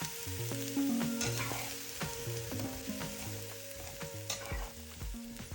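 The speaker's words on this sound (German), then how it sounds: "die kommen dann in die kochend heiße Pfanne, immer noch ohne Fett" Thin slices dry-roasting without fat in a very hot pan for a vegan protein dish, giving a steady crackling sizzle with scraping stir strokes and clinks of a utensil against the pan, close and moderately loud, with no talking.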